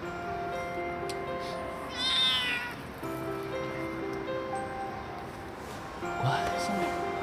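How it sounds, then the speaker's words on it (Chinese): A small, newly adopted cat meows several times indoors, short mewing calls standing clear over a steady background, with a louder, longer meow near the end. "从此以后你就是一个有家的小喵喵啦"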